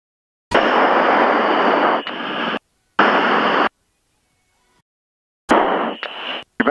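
A fighter jet roars with broadband engine and wind noise in loud, close bursts of one to two seconds, cut by abrupt silences between segments.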